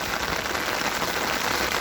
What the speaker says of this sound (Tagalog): Naririnig nyo ang lakas ng ulan.